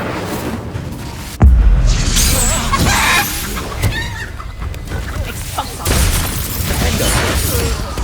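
Incendio fire spell cast in a Hogwarts Legacy battle, a sudden loud burst followed by roaring, crackling flame and magical impacts amid ongoing combat noise.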